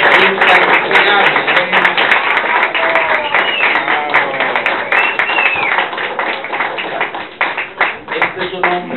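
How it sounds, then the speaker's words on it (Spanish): Sustained applause from an audience at a medical gathering honouring a deceased person, dense and loud throughout with whoops or voices mixed into the clapping. "con un aplauso cerrado, con un amor internacional"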